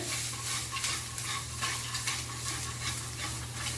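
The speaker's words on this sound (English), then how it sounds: "Now we're gonna mix it up again." A cooking dish stirred in a pan, a steady scraping and shuffling over continuous frying sizzle, close and fairly loud, with no talking.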